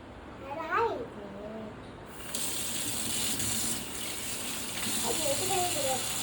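Tap water gushes steadily into a sink as a child washes vessels, the flow starting partway through and running on close by while children talk over it.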